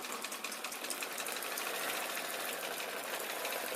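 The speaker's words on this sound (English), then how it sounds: "the machine is still going." A sewing machine runs continuously with a fast, even mechanical chatter, fairly faint and steady throughout, no voices.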